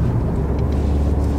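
A 2020 Honda Accord Sport pushed fast around a tight circle, giving a steady, loud engine and tyre roar with road rumble throughout the brief moment, no talk.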